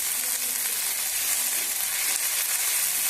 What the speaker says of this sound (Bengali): আদা রসুন ভাজা ভাজা হয়ে গিয়েছে।